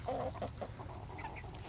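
Chickens inside a coop give several short, close clucks near the start, then quieter scattered clucking and shuffling, with no talking.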